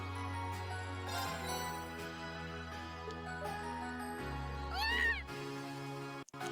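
A cat meows in the video game Trails of Cold Steel, one rising, wavering call near the end that rises above steady background game music.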